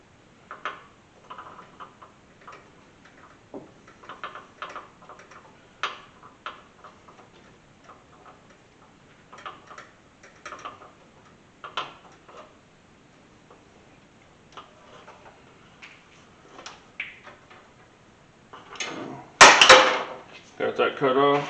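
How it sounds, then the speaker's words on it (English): A small tubing cutter works around a vehicle brake line, giving a long run of light, rhythmic ticking clicks up close, ending in a louder cluster of sharp clicks and rattles. "Just gonna cut it like you normally cut a brake line."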